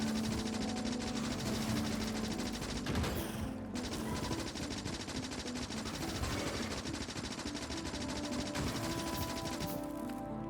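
Automated turrets in Factorio firing at worms in a desert area, a steady, dense rattle of rapid gunfire that runs on without a break, with brief louder crashes mixed in.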